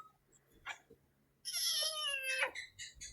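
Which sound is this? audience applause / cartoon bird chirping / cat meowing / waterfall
cat meowing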